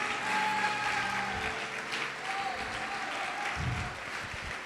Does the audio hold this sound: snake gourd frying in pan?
no